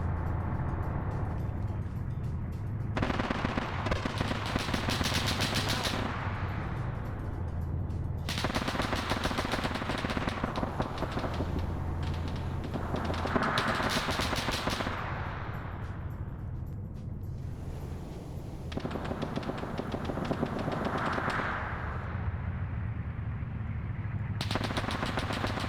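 Video game machine-gun fire in an Arma Zeus operation on Raate Road, coming in long sustained bursts of rapid shots separated by short gaps, loud and close over a constant vehicle engine drone.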